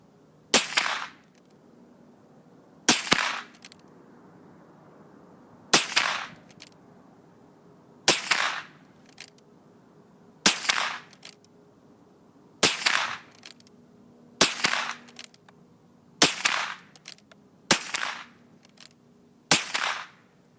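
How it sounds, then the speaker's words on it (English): A Marlin 39A rifle fires ten rounds at a 50-yard target, sharp loud cracks spaced roughly two seconds apart, each with a short decaying tail, steady and close with quiet between shots. "we're going to run 10 rounds through here"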